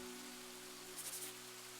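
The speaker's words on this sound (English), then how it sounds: "The rain doesn't seem to be stopping" Steady rain falls in the video game Pendragon, a soft, even hiss of drops on the ground with a faint low hum underneath, continuous and unbroken.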